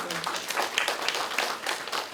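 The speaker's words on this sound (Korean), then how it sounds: "좋은 강의 해달라고 한번 박수 한번 부탁드릴게요" Audience at a community care training lecture gives a short burst of clapping, moderately loud and fairly even, lasting about two seconds.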